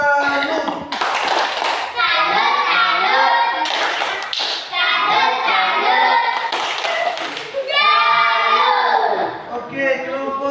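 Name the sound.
class clapping the 'tepuk salut' clap chant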